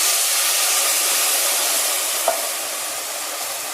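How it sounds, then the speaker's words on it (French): Risotto rice stirred in a hot pan just after white wine is poured in, a steady loud sizzle and hiss with faint scraping of the spoon, no voices. "Et je mélange jusqu'à ce que le riz absorbe totalement le vin blanc."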